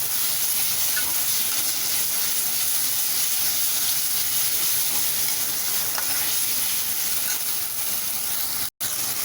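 Veg Manchurian sauce with a spoonful of Schezwan sauce sautéing in a pan on high flame, a loud, steady hiss and sizzle running throughout with faint stirring, cutting out for an instant near the end.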